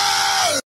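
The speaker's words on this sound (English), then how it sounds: "Número 3. Fish scream." The fish scream meme sound effect plays: one loud, harsh, sustained yell that cuts off abruptly after well under a second.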